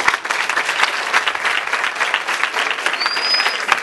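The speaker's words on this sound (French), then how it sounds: "Si vous êtes tous contents, acclamez." An audience at a family gathering claps loudly and steadily, a dense patter of many hands sustained for several seconds, with a brief whistle near the end.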